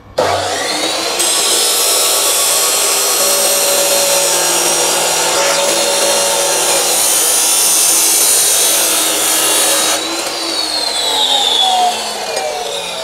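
A Hasston cut-off machine (Art. 3085-003) slices through stainless steel with a loud, sustained, high-pitched grinding whine that runs for about ten seconds before the blade winds down.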